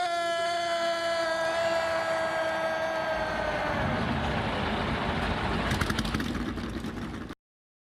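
Race car engines starting and droning together at the start of a Daytona 500 stock car race in a video game, a loud steady engine hum that shifts lower partway through and thickens into rumbling before cutting off.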